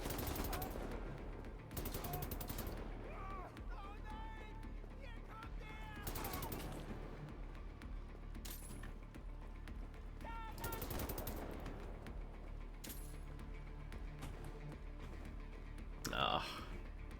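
An MG60 machine gun firing in Wolfenstein: The New Order: several sustained bursts of rapid automatic fire with pauses between them and a sharper burst near the end, with a voice speaking at times.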